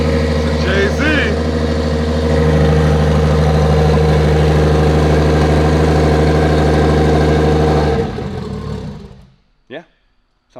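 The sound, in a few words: Toyota 1JZ straight-six engine idling in JZX100 car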